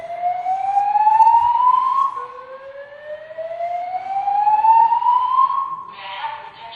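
A hotel's early alert system alarm sounds loudly and alone, a siren-like tone rising in two long sweeps, each climbing steadily before dropping back.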